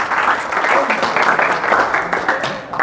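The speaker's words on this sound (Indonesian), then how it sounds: "Yang diberkati tepuk tangan dulu" Youth retreat congregation at a Pentecostal church in Jimbaran clapping together after a sermon, a fairly loud, continuous wash of hands with some voices mixed in.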